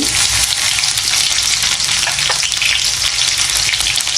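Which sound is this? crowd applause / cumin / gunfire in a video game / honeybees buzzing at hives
cumin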